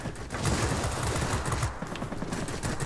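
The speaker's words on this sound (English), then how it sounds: "Frickin' guns, don't overheat on me now." Rapid machine gun fire from an I-153P DM-4 biplane in World of Warplanes, a dense, loud, continuous stream of shots with no talking.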